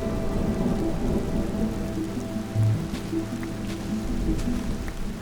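Steady heavy rain pours throughout a thunderstorm in the video game Minecraft, with low rumbles of thunder rolling underneath and one deeper boom partway through.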